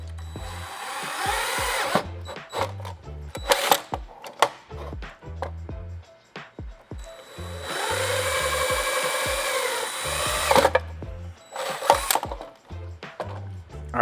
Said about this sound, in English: We'll go ahead and drill our holes in this piece.